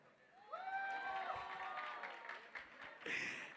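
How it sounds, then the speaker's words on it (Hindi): Guests at a sangeet celebration clap for the performers in a short, quiet burst of applause, with faint voices and a brief louder flurry near the end. "जोरदार तालियां जीजा जी के लिए और पूरे सारे परफॉर्मर्स के लिए।"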